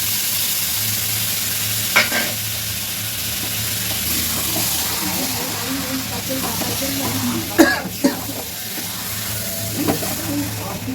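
Yogurt-marinated chicken fries and hisses in a pan, a steady close sizzle broken by a few sharp clanks and scrapes of stirring, with a brief cough or throat-clearing sound partway through.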